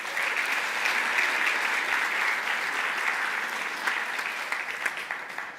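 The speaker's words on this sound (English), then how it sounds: "So let's give them all one more round of applause." An audience at an arts awards ceremony applauding, a sustained wash of many hands clapping from a full hall that holds steady, then thins slightly toward the end.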